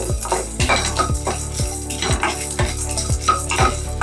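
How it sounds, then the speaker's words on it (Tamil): Cumin and fenugreek are stirred around a cooking pan, producing a rhythmic series of scraping, clattering strokes against the metal over a low steady hum and faint sizzle, with no talking. "எல்லாம் சேர்த்து நல்லா கிளறி விட்டுக்கோங்க"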